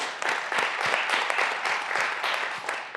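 Crowd applause at a 2021 Tufts graduation commencement ceremony for the class of Biopsychology grads, steady dense clapping sustained throughout at moderate level.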